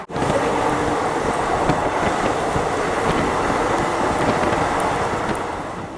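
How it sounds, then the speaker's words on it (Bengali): A passenger train running at high speed, heard from inside as a loud, constant roar of wheels and rushing wind with faint clickety-clack, easing slightly near the end, no speech. "এখন প্রচণ্ড গতিতে ছুটছে আমাদের ট্রেন"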